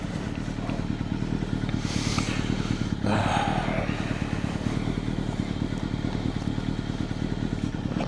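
Motorcycle engine idling steadily around 1000 rpm with the choke partly on, a continuous low close-up chug with faint clatter running evenly throughout, no revving.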